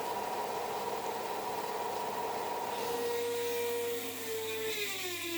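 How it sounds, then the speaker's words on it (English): A disc grinder works burrs off the parts of an old English cutaway lever lock, a steady whirring grind throughout that shifts to a higher tone near the end. "I'm using this disc grinder here, but you can do it with the file."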